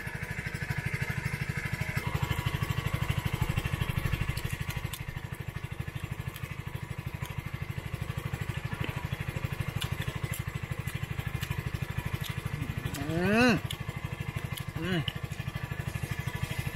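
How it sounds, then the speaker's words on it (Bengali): A steady engine drone from a motor-driven pump lifting water out of a garden pond, running continuously at a close, even level with a faint clatter, while a person talks over it. "পেছনের এই বাগানের পুকুরটা মেশিন লাগিয়ে দেওয়া হয়েছে, জল উঠছে।"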